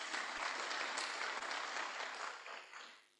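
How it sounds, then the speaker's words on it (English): A lecture audience breaks into a dense, steady round of applause at a distinguished annual lecture, the clapping sustained for a few seconds before fading away, with no voices over it. "Please, a round of applause for him."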